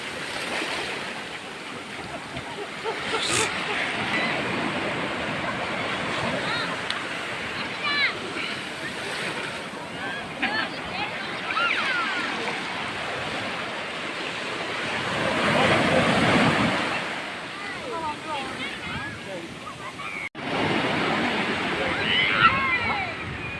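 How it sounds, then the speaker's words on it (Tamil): Rough sea waves crashing at Thiruchendur beach in Tamil Nadu, a steady surf roar that swells into a louder break midway, with a voice talking over it. "கடல் சீற்றத்துடன் காணப்படும் அலைகள் பாருங்கள் எவ்வளோ ஃபோர்ஸாக வருதுன்னு"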